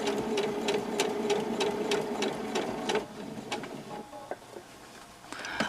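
A sewing machine stitching a fabric face mask, its needle running in a fast steady rattle for about three seconds, then slowing to a few slower stitches before picking up again.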